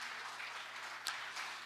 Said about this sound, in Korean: 박수 쳐주시려면 확실하게 쳐주시고